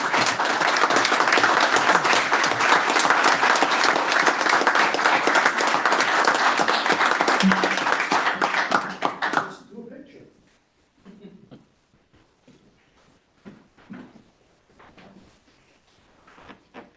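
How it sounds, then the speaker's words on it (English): Loud, dense applause from an audience at a board of trustees meeting fills the first nine seconds, then stops abruptly, leaving quiet shuffling, scattered movement and faint talk. "So let's give them all a round of applause."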